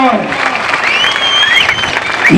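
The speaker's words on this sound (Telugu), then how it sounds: "నా మాట ఏకీభవించిన వాళ్ళు చప్పట్లు కొట్టి నాకు మద్దతు తెలుస్తాను" A crowd at a political rally claps steadily in support of the speaker, with crowd noise and whistles mixed into the dense, loud applause.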